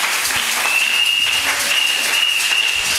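A church congregation applauding in a sermon setting, dense sustained clapping from many hands that fills the room evenly, loud and continuous throughout.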